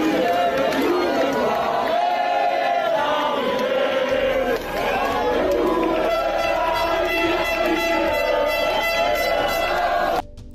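Yellow Vest protesters in France chanting nationalist slogans in unison, a loud, dense crowd roar of massed voices rising and falling continuously.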